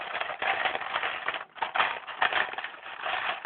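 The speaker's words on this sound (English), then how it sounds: "Sound of me digging Lego pieces." Small plastic Lego pieces clatter and rustle continuously as a hand rummages through a pile, close and busy.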